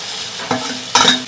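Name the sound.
stir-frying bean paste and spices in oil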